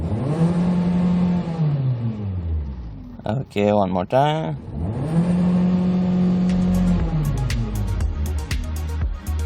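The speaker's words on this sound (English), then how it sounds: "let's try to accelerate and listen to the engine" A gray gasoline Hyundai Sonata engine revs up and falls back twice, rising and sinking in pitch, with a person speaking briefly between the revs.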